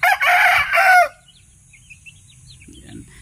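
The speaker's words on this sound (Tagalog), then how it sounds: "Hindi lang natin guys alam kung anong klaseng lahi to, basta parang native na chicken siya." A native free-range chicken crows loudly and close for about a second, then quiet farmyard background with faint distant chirps follows.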